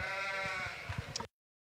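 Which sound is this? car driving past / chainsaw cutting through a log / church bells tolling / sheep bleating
sheep bleating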